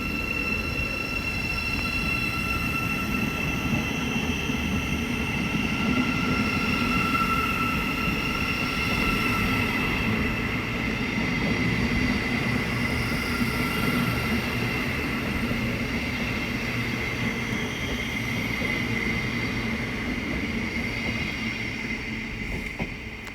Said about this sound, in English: Now departing is the 1431 Thameslink service from London King's Cross to Cambridge.